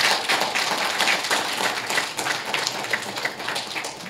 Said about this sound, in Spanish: Un aplauso, hermanos, para la hermana